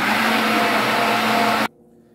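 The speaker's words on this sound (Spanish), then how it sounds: "Ahora de nuevo volvemos a licuar bien." A kitchen blender whirring loud and steady as it blends banana, carrot and milk into juice, then cutting off abruptly to quiet.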